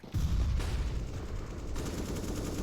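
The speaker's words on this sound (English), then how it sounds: "Flashbang." A flashbang grenade in a video game goes off with a sudden, loud, broadband blast, followed by a dense, sustained ringing roar that carries to the end.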